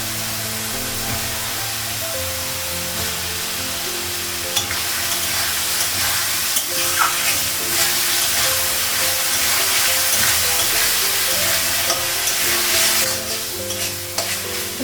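Potatoes fry in a pan with spice paste, a loud continuous sizzle and hiss close up, broken by occasional spatula scrapes and knocks as they are stirred.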